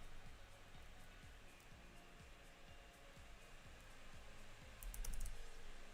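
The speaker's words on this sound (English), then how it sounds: "Keep hitting the wrong keyboard shortcut for the move topological brush." Keys tapped in a steady run on a computer keyboard while working in 3D sculpting software, soft close clicks over a constant fan-like hum, with a brief louder burst near the end.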